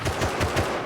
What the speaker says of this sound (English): firing off explo ammo during a raid is a great way to attract people